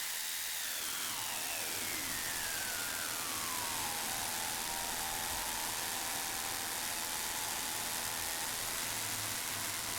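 Pure white noise frequency-shifted with Ableton's Shifter: a dense, constant hiss with a tone sweeping downward over the first few seconds before settling into a steady band, loud and unbroken for the whole stretch.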